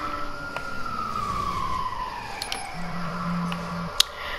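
A police siren in the video game Watch Dogs sweeps down in pitch, fairly faint and distant, followed by a steady tone and a few sharp clicks.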